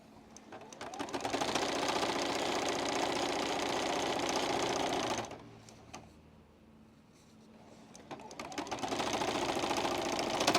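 Sewing machine stitching a quarter-inch seam on a quilt, a fast steady mechanical chatter running close and loud, pausing briefly midway before starting up again.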